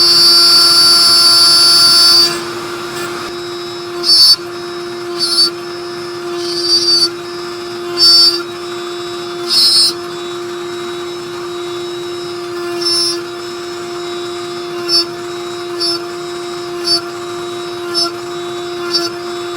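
A saw cuts box joints through a jig: one loud burst of cutting noise at the start, then a steady motor hum with short repeated bursts as the blade passes.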